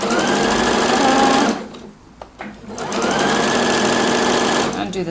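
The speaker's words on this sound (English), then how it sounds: "Now I'm also just going to sew on this" Sewing machine stitching stretchy white jersey fabric for an upcycled T-shirt, a steady fast whir that pauses briefly midway and then resumes, close and loud.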